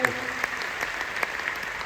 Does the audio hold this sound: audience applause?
yes